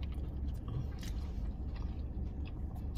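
Crunchy bite into a Taco Bell Volcano Box with rice and crispy strips, heard as close chewing and crunching under steady background noise.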